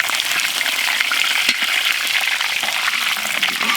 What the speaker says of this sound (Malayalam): കുറച്ച് ഓയിൽ ഇട്ടിട്ടാം, കടുക് കൊടുക്കാം, വീണ്ടും കടുക്